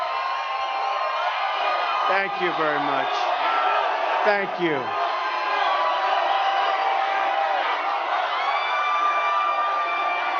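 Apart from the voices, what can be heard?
crowd cheering at a rally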